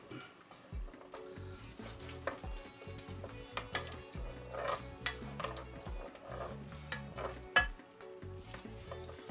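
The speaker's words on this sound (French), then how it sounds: "mélanger" Cheddar melting in a pan is stirred with repeated scraping and knocking of a utensil, a soft sizzle underneath and occasional sharp clacks against the pan.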